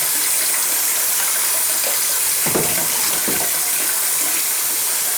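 Water gushes in a strong, continuous spray while an e-Machine 600is generator is washed, close and loud throughout, with a few brief splashing bursts as the stream hits it.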